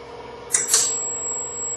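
A fire sprinkler head going off during a performance test: one sharp pop followed by a brief hissy burst, with a steady high electronic tone from a timer continuing in the background, no talk.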